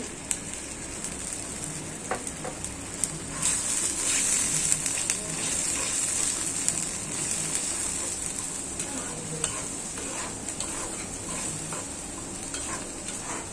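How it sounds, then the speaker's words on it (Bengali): Turmeric, chili and garam masala frying for a tripe curry, a steady crackling sizzle with frequent stirring scrapes and small pops, close and continuous. "মশলাটা ভালো করে কষাবো"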